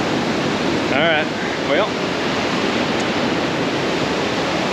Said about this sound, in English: Pretty crazy how powerful that water got